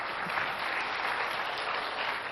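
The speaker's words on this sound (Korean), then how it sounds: "박수 한번 해주시죠." Steady, dense applause from a concert audience after a Beethoven performance fills the whole stretch at an even, loud level, with no voices standing out.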